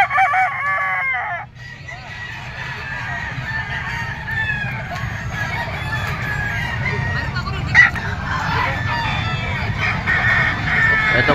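Yellow-legged sweater gamecocks at a crowded rooster gathering, loud clucking and repeated crowing from several nearby birds over steady background crowd noise.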